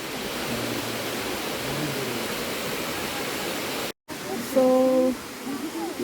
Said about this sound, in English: The sound of the water is so beautiful